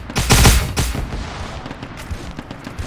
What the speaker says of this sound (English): I guess that's them wildly shooting.